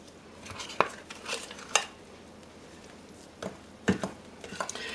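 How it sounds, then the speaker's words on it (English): A spoon clinks and scrapes against a bowl while peppermint scone dough is stirred, giving a few sharp irregular knocks spread across the clip with soft scraping in between, close and fairly loud with no talking. "Now I stir all this, and I imagine I'll end up using my hands."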